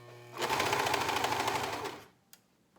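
A serger and sewing machine run together stitching a scrub cap, a fast rapid-fire mechanical whir lasting about a second and a half, close and fairly quiet, then stopping with a single small click afterward.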